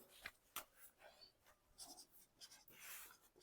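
Pen strokes writing out a Class 5 maths problem on the area of a square park, faint scratchy bursts in an irregular rhythm with short pauses, quiet and close, no talking.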